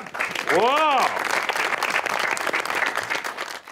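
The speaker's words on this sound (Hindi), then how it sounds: "इनके लिए तालियां।" Studio audience at a Pakistani TV show applauding the performers, a voice briefly rising over the start before dense, steady clapping carries on to the end.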